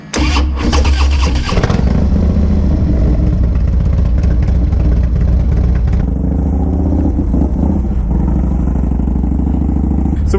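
A Harley Low Rider motorcycle runs loud and close throughout, its engine a constant heavy rumble with shifts in pitch as it rides, with no talking.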